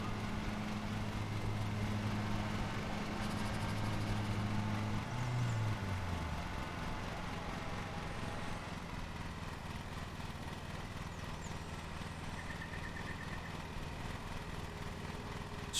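A lawn mower engine in Lawn Mowing Simulator runs steadily, then its pitch drops sharply partway through as it winds down to a lower, rougher idle. No one speaks.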